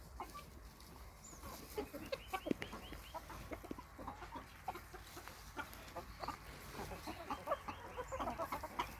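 Native desi chickens cluck softly in scattered, overlapping bursts at a distance, with faint farmyard background and no talking.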